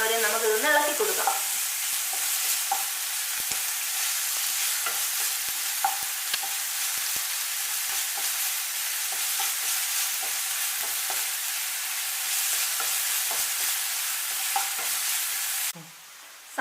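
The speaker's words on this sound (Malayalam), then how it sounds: "നമ്മൾ ഈ സവോളയും കൂടി നമ്മൾ ഇതിലേക്ക് ഇട്ടിട്ട് നന്നായിട്ട് നമ്മളിങ്ങനെ ഇളക്കി കൊടുക്കണം" Sliced onions sizzle loudly and continuously in hot oil in a pan, with scattered scrapes and clicks of a spoon stirring them, and the frying cuts off briefly near the end.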